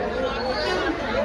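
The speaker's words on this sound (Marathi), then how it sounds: "बघू शकतात खूप गर्दी आहे पुणे स्टेशनला" Dense crowd chatter fills a busy Pune railway station, a steady close babble of many overlapping voices with no pauses.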